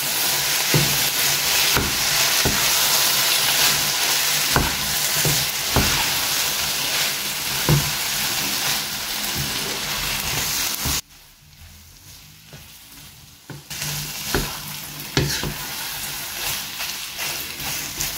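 Paneer stirred and mixed in a hot frying pan, a steady sizzle with repeated scraping strokes of a spoon, briefly dropping away near the end before the frying noise returns, no talking.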